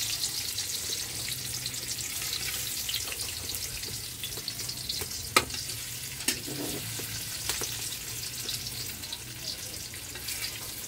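Tofu fries in a pan with a steady soft sizzle throughout, joined by occasional clicks and light stirring knocks, fairly quiet and close with no talk over it.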